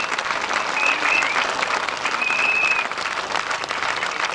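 A crowd at a grasstrack race applauds the third-place rider, a dense, steady wash of clapping that holds at full strength for several seconds.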